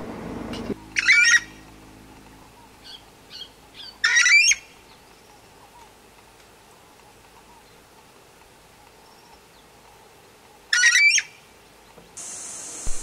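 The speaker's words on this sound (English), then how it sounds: "Here's the northern screamer noise I mentioned in the blog." Three loud, harsh calls from a northern screamer ring out separately with long quiet gaps between them, over faint background ambience in Colombia.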